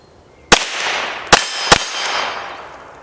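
A Polish PPS-43c submachine gun fired from the hip outdoors, three loud sharp reports spaced apart with long ringing decays, the burst stopping short as the weapon jams.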